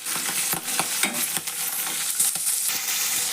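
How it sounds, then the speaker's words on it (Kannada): Fresh field beans (avarekalu) frying in oil for avarekalu uppittu, a dense close sizzle broken by repeated scraping stirs and soft crackles at an uneven rhythm, no voices. "ಎಣ್ಣೆ ಒಳಗೆ ಫ್ರೈ ಮಾಡ್ಕೊಂಡ್ಬಿಡೋದ್ರಿ ಇವನ್ನ."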